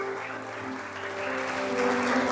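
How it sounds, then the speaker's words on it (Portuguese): Church congregation at an Assembleia de Deus service in Anápolis applauding, a steady wash of clapping that swells slightly toward the end, with faint tonal hum from the hall beneath. "Você pode dar uma salva de palmas para o Senhor?"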